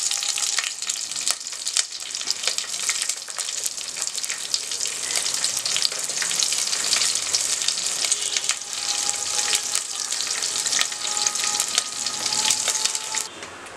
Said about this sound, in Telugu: ఇవి కొద్దిగా వేగిన తర్వాత మనం కట్ చేసి పెట్టుకున్న మిర్చి వేసుకున్నాము.